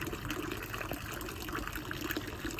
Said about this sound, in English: Liverpool's got its own spring water, which is in St. James's Cemetery.